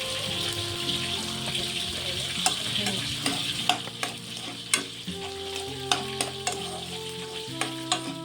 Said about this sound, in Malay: kita tomeh dulu bahan-bahan ni. Serai, Bawang besar, bawang merah, bawang putih.